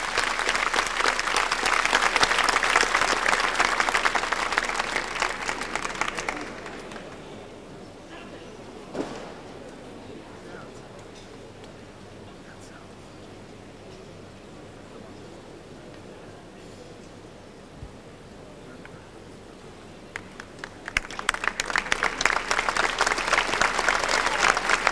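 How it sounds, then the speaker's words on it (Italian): An audience at a ceremony with papal and Italian anthems breaks into loud applause for about six seconds. A long quiet stretch with faint room noise follows, then the clapping swells again near the end. "Il grazie di tutti noi con un grande applauso"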